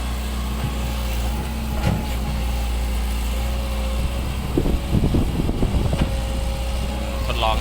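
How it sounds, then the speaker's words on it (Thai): A car engine runs at a steady low idle-like rumble, with faint revving and some clattering and handling noise over it in the later part. "เร่งเครื่อง"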